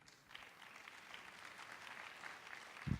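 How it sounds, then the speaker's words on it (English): An indoor audience at a political summit gives a faint, steady patter of applause, heard from a distance throughout. "They're applauding for me."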